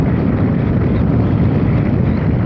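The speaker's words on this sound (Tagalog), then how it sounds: "Sakto, salubong hangin." Headwind blows across a motorcycle rider's microphone, producing a loud, continuous low buffeting roar with no break.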